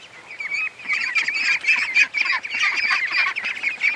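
A flock of ducks calling in a dense, continuous chorus of overlapping quacks and honks, fairly close and steady throughout.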